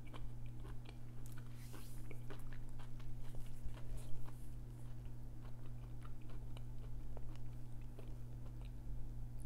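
Steady crisp crunching and chewing of almond chocolate close to the mic, repeated bites with a constant low hum underneath and no talking.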